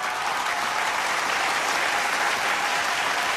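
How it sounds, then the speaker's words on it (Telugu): A dense, steady roar of audience applause at the IIFA awards fills the whole stretch with continuous clapping at an even, loud level and no break. "కొంచెం క్లాప్ కొట్టండి."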